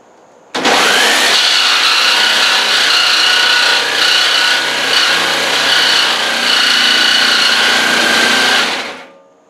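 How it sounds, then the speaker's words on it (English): A Craftsman jigsaw fitted with a steel blade cuts a circle in diamond plate for a hood: a loud, continuous, buzzing metal-cutting whine starts abruptly, holds steady for about eight seconds, then stops. "So we've been cutting this circle with this nice steel blade for this Craftsman jigsaw."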